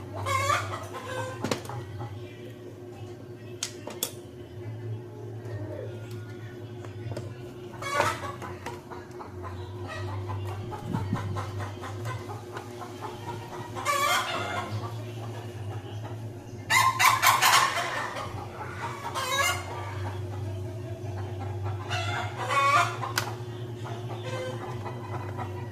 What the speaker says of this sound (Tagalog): Ingay ng manok ko na to.